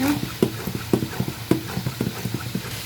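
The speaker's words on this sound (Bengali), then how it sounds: "আমি এখন সামান্য একটু ঘুটনি দিয়ে ঘুটে নেবো" A wooden masher works through cooked dal (lentils boiled with green chilli, onion and garlic) in a pot, making steady rhythmic soft knocks and squelches, several per second, close and unaccompanied.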